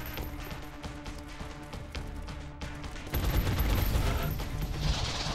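Gunfire in the video game XCOM: Enemy Within, scattered shots and bursts that build into a louder, denser volley of automatic fire in the second half, with no voices.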